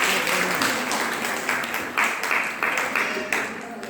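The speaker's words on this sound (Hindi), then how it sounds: "जोरदार तालियों के साथ" Audience applause at the opening of the Arya Computer Center, a dense, steady wash of many hands clapping with a few louder bursts, loud and continuous throughout.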